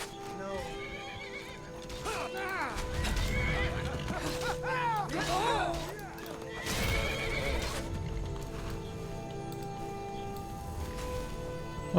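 A horse in the video game Skyrim neighs and whinnies several times close by, with clip-clopping hooves, game ambience and a voice around it.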